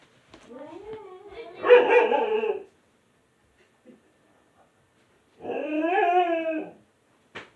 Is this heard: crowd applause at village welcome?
no